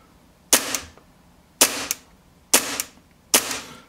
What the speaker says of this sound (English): Let me put it on the ground and shoot.